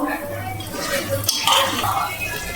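Curry is stirred and fried in a pan at close range, with scraping and clattering utensil strokes against the metal over a low sizzle, and faint voices underneath.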